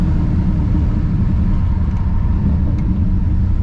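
A car engine, a G62, roars loud and steady at high RPM in a dense, continuous rumble with no voices over it.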